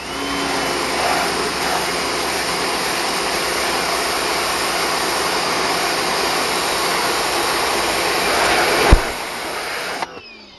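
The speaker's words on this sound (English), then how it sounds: "So I'd say this Portland pressure washer is a plus." A Portland electric pressure washer blasts green slime off a concrete block, its motor and water jet making a loud, steady, close hiss and whine that runs unbroken before cutting off near the end.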